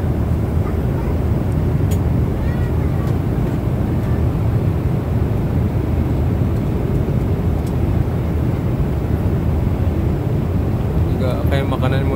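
Steady, loud cabin rumble of an airliner in flight on an Umrah journey, a continuous broadband engine and air roar with a person speaking over it.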